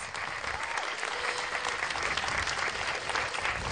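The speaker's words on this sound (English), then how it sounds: "If we could give them another round of applause" A protest crowd at a Day of Decision rally in Houston gives a round of applause, continuous full clapping from many hands, loud and steady without a break.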